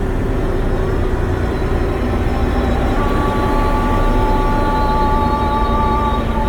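A 2015 Freightliner truck's diesel engine held at about 1500 RPM, a loud, steady, continuous drone with a low rumble and faint higher tones, running alone throughout.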